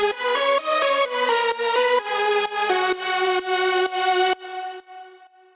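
Progressive house synth lead processed with Decapitator saturation, reverb, sidechain pumping and OTT compression, playing a melodic line with rhythmic ducking on each beat, loud and bright, then cutting off into a fading reverb tail; no talking.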